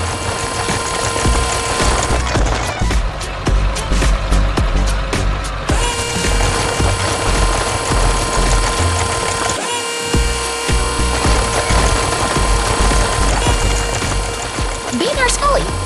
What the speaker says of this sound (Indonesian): Suara mesinnya begitu kuat saat menghantam batu.